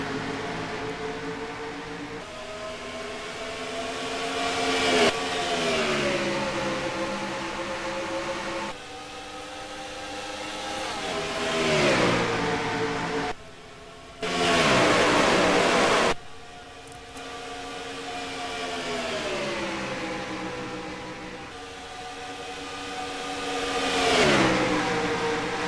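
NASCAR Truck Series race trucks roar around Homestead-Miami, engines rising and falling in long revving sweeps as the field passes, with loud close bursts and steady mid-distance drone throughout.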